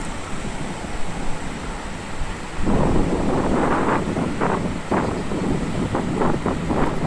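Wind and sea waves at Digha beach make a steady, loud roar that grows stronger partway through, with repeated surges of surf breaking close by and no voices.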